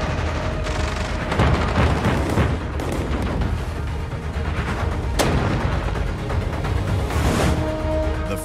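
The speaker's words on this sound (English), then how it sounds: "2 bombs hit Yamato, followed almost immediately by 2 more." Bombs striking the battleship Yamato, heavy booming explosions and rumbling blasts in quick succession, loud and dense, with sharper cracks breaking through a constant roar.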